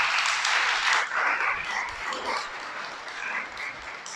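An audience claps together at a Spanish-language talk, a steady, dense wash of applause that swells early and then thins slightly, with no voices over it.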